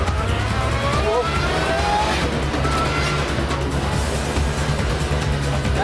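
Lotus 2-Eleven sports car racing hard along a twisting mountain road on cold tyres, its engine roaring steadily and loud throughout, with faint tyre noise and no voices.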